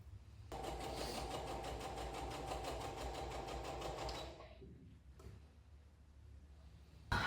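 A domestic sewing machine runs a steady fast stitching burst for about four seconds, sewing a French seam on pyjama fabric, then stops, leaving faint handling noise and a sharp click at the end.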